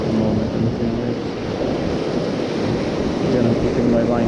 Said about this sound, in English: So I'm going to take a moment in between waves.